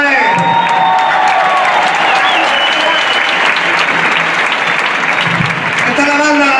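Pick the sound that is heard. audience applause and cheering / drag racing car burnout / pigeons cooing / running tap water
audience applause and cheering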